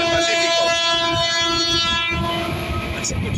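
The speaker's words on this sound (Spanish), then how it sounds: "Ahí se escucha la bocina de la GT." A train horn sounds steadily and loudly from a passing train on the San Martín railway near provincial route 41, with wheels and rail noise rumbling underneath before the horn tails off.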